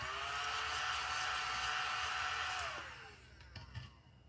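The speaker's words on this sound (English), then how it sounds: "Gonna vacuum that off." A small handheld vacuum whirs steadily at close range for about two and a half seconds while cleaning scratch-off dust from a lottery ticket, then winds down, followed by a few light handling taps.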